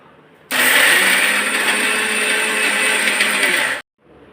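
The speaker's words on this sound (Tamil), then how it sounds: "இப்போ நல்லா போட்டு அரைச்சி எடுத்துருவோம்மா." A mixer grinder whirs loudly and steadily for about three seconds, grinding mudakathan greens with salt, then cuts off abruptly into quiet.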